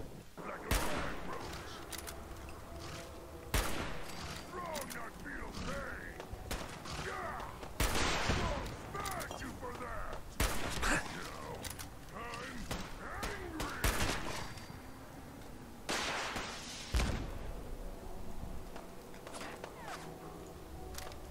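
Combat in the video game Fallout 4, with repeated gunfire bursts and heavy rocket launcher blasts spread across a steady background of game ambience, several sharp loud impacts standing out.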